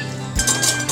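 Cooked palak rice is scooped into a rice cooker vessel, giving a brief metallic clank of utensil against pot followed by soft scraping, close and alone.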